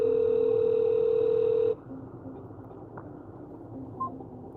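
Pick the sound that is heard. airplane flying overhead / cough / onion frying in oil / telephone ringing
telephone ringing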